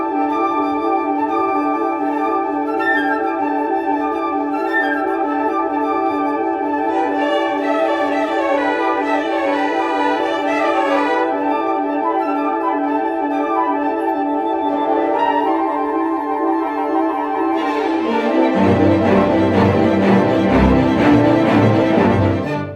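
Bustling orchestral passage from Stravinsky's Petrushka depicting a fair crowd, with busy interweaving winds and strings building to a louder, fuller tutti near the end, continuous with no talking.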